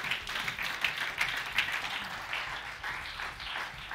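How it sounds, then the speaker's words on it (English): A church congregation gives a praise clap at a Sunday worship service, a moderate wash of clapping with a few louder individual claps standing out, continuing evenly throughout. "Let's give the Lord a praise clap"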